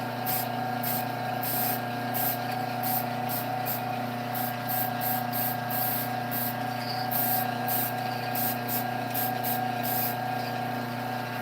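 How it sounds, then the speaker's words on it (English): Fixative spray hisses onto a piece of artwork in a series of short, regular bursts over a constant background hum. "The fixative sprayed, like bounced the color off the back, off the stem onto the back"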